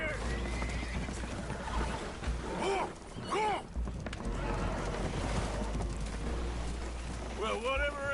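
Spooked horses whinny and neigh aboard a damaged, leaking boat in Red Dead Redemption 2, their rising calls breaking out repeatedly over a steady low rumble of water and wind, with voices talking in the background.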